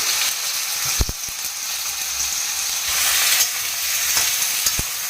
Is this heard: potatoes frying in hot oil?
yes